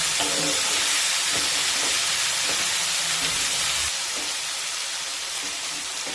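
Chopped tomatoes frying and softening in a hot pan for a Tamil Nadu style khara chutney give off a loud, steady sizzle and hiss with occasional soft stirring bumps, which eases slightly toward the end.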